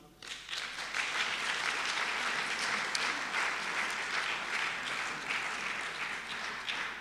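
Audience at an anniversary ceremony for the Hecht Museum breaks into applause, clapping swelling quickly and holding as a steady, fairly distant wash.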